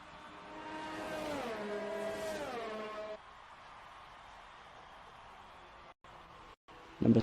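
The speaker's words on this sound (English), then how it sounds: "Tyler's just gone round again, so Tyler's the only person on track." A Formula 1 car's engine revs and climbs through gears in an F1 racing game at a Bahrain round, a moderately loud whine that rises twice then drops to a low steady hum, with a brief louder blip at the end.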